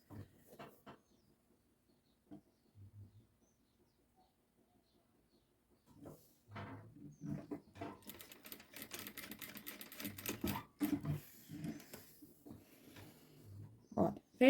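A sewing machine runs in short bursts while stitching a seam close to the opening on a child's garment, starting and stopping with quiet pauses and handling noises in between.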